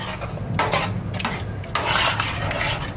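A spoon scrapes and clinks around a pot of sauce in several quick, uneven strokes, close up, with a faint simmer underneath.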